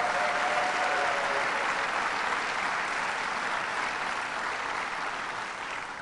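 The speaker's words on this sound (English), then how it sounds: "To Cheryl Dinolfo, let's give her a big round of applause" An audience claps for Cheryl Dinolfo at an event celebrating airport renovations, a steady round of dense clapping that stays strong and fades slightly toward the end, with no talking over it.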